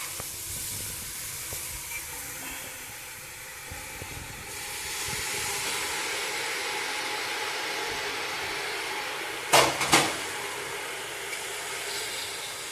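A pressure cooker on a gas stove gives off a steady, airy hiss that swells midway, then two sharp, loud bursts of venting steam near the end.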